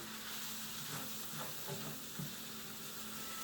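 Chopped sausage sizzles and hisses steadily in a pan, with occasional stirring scrapes and soft clinks, faint and continuous with no talk.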